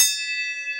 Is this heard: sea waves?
no